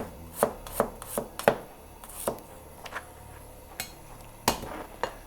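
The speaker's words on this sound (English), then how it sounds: "Crush them, slice the ginger" Spring onions are crushed and ginger sliced on a cutting board, with a rapid cluster of knife chops followed by a few scattered, sharper whacks, close and loud with no talking.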